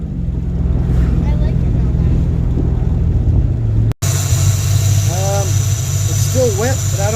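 Ford Mustang engine through a stock exhaust fitted with Flowmaster mufflers and 2 1/4 inch piping, a steady low rumble that cuts briefly, then resumes with a slightly changed tone under intermittent nearby talk.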